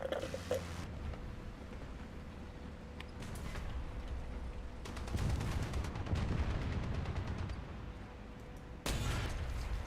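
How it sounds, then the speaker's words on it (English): Explosions and gunfire in a video game, with bursts of booming blasts and sharp cracks layered over a constant rumbling battle din, loud and close with no speech. "Fucking explosion."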